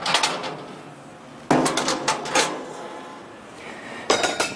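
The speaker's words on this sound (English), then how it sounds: "And then your regular cooking grates go on top." Heavy stainless steel cooking grates set down onto a Weber Summit S-470 gas grill, three loud metallic clanks and rattles with short scraping shuffles between them, close by.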